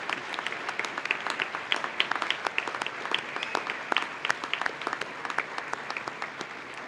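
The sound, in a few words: round of applause for awardees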